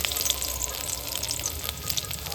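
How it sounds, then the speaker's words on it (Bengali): Finely chopped garlic, five or six cloves, frying in hot mustard oil: a dense, continuous close crackle and sizzle with no speech over it. "পাঁচটা থেকে ছটা রসুন ক নিয়েছি কুচি কুচি করে নিয়েছি দিয়ে দেব গরম তেলের মধ্যে"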